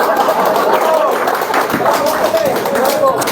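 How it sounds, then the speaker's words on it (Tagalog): Seminar audience clapping and shouting together, a dense continuous wash of applause and voices close by. "Tapos palakpakan, sigawan na."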